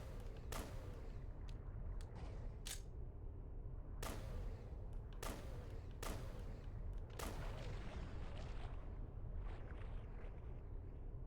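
Pistol shots in a video game, a string of sharp, loud cracks spaced irregularly about a second apart over a low rumbling background.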